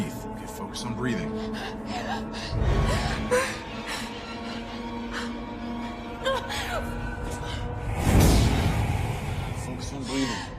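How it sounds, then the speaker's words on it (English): Heavy, ragged gasping breaths come through, with two sharper loud heaves partway through, while a voice talks over much of the stretch. "Just breathe. Focus on breathing."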